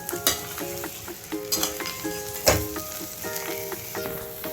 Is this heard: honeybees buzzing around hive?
no